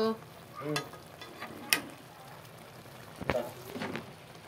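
Maggi noodles drying out in a hot pan, giving a faint, low sizzle with a few sharp scrapes and clinks of stirring scattered through, quiet and close with no talk.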